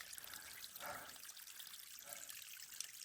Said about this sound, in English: there's water coming down there